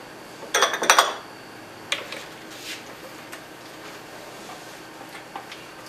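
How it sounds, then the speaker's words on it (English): Raw apple pie filling being moved into a big bowl: a quick burst of clattering dishes and clinking utensils, then sparse faint taps and clicks in a quiet kitchen. "So now we're going to transfer this mixture"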